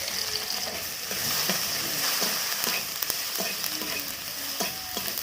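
Chopped tomato and turmeric fry in mustard oil in a kadai, giving a loud, steady sizzle with stirring scrapes and occasional taps of the spatula.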